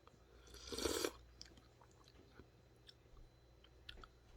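Softened instant ramen noodles in broth being eaten, a brief burst of slurping and chewing close to the mouth followed by quiet, faint mouth clicks and small chewing sounds.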